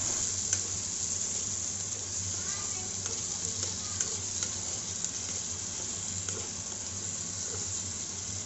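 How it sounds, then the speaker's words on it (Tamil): Onion and tomato frying together in a pan for chutney, giving a steady, even sizzle with a few faint stirring clicks over a constant background hum, no clear talking. "இது எல்லாத்தையும் நல்லா ஃப்ரை பண்ணிக்கணும்"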